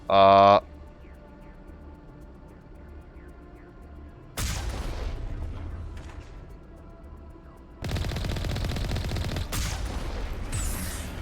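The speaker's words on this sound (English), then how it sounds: "Yeah, the Mako cannon will really send people flying." Mako tank cannon and machine gun firing in the video game Mass Effect, with sharp booming blasts and bursts of rapid gunfire that come in separate loud episodes, set apart by quieter stretches of game ambience.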